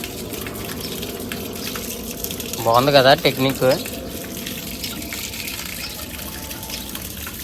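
Tap water runs steadily into an animal enclosure, a constant close wash of flow, while a voice briefly speaks over it partway through.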